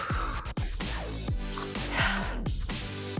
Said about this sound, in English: Breathing heavy.